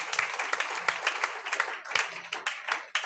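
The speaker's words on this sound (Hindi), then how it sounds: "जोरदार ताली बजा सकते हैं।" A prayer meeting congregation bursts into brisk, vigorous clapping, a steady wash of many hands close by for a few seconds, with no talking over it.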